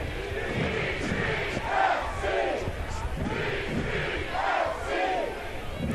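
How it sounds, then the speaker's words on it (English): A soccer stadium crowd at a USL Championship night match at Keyworth in Detroit chants and cheers in rhythmic swells, a steady collective roar with repeated rising shouts, heard at a distance. "Crowd in good spirits here tonight, despite the weather."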